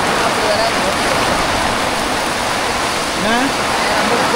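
Rushing rainwater flows continuously, a loud, steady hiss like a swollen stream, with a faint voice in the background.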